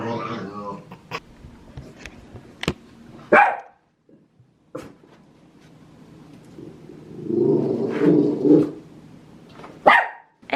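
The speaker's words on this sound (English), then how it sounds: "It's like, what is he barking at?" A dog indoors gives a series of sharp, close barks, scattered unevenly with quiet gaps between them and a stretch of rougher, growly vocal noise.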